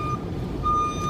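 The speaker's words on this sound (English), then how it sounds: "somebody's moving a big, huge truck over there. That's what that noise is." Backup beeps from a big truck reversing at a condo construction site, a steady high electronic tone pulsing over a low rumbling engine, heard from a distance.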